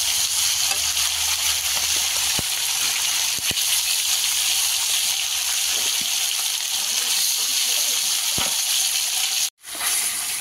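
Live fish sizzle and hiss in oil in a wok over a wood fire, a steady dense frying crackle that runs close and continuous, with a short dropout near the end.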